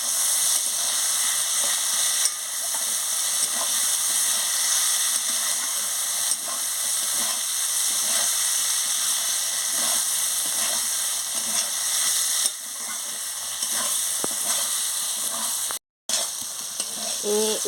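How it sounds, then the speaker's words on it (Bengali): Okra and potatoes sautéing in a spice masala give off a steady, close, dense sizzle and hiss that runs unbroken, with no talking over it. "আমি ঢ্যাঁড়স আর আলুগুলো দিয়ে দিচ্ছি, দিয়ে ভালো করে কষিয়ে নিচ্ছি"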